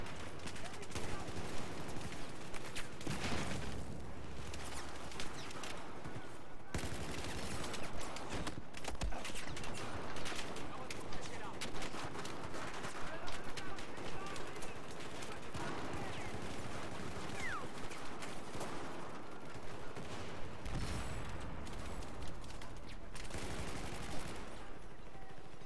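Rapid gunfire crackles in Battlefield 4 on the Operation Metro map, with repeated automatic bursts and single shots rattling over a dense, noisy battle background.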